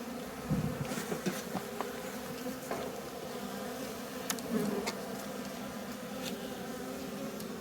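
Honeybees drone steadily around an open hive being treated for varroa, a continuous close buzz with a few louder passes of single bees near the microphone and no talking.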